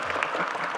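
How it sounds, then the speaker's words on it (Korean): Audience applause fills a performance hall at a public event in Ulsan, a dense, steady clapping that stays loud and even throughout the short burst with no voices over it. "박수 막 치셔도 됩니다."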